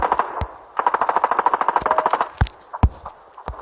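Rifle gunfire in the mobile shooter Standoff 2, a fast rhythmic automatic burst of evenly spaced shots lasting over a second, followed by a few isolated louder single shots, close and clear with no speech.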